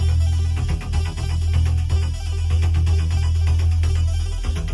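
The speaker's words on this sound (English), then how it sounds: "This car is also equipped with a Harman Kardon sound system, which sounds like this." Music plays through a Kia car's Harman Kardon speakers with heavy, booming bass and a steady beat, filling the space loudly and continuously.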